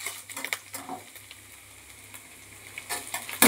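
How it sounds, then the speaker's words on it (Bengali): Banana stem fries in a pan with a steady sizzle while a utensil stirs it, scraping and tapping against the metal up close. "এইবার আমি খানিকক্ষণ নেড়ে নেব থোড়টাকে।"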